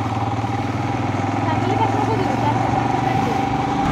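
A motorbike engine runs steadily at idle with a low continuous drone throughout, on a monsoon lakeside ride with friends, while people talk nearby.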